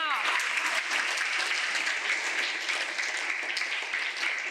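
Children applaud steadily at a charity lunch event, a dense, even wash of many small hands clapping at a constant level throughout, with no pauses.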